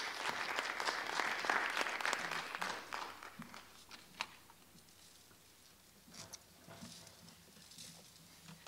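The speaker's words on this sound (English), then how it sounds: "Let's welcome her with a round of applause" An audience applauds to welcome a speaker at a farm artisan-in-residence program, with loud, dense clapping at first that thins out to a few scattered claps, then quiet.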